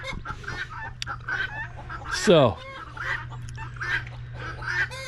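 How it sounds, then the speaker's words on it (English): Guinea fowl calling loudly on a farm, repeated harsh squawks and chattering cries at varying distances with one loud close call in the middle, and someone speaking briefly. "The noise you hear are those loud birds right there."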